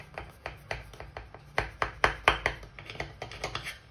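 A knife cutting through layered baklava pastry, a series of about fifteen crisp, evenly paced chops close up, growing louder in the middle, with no talking.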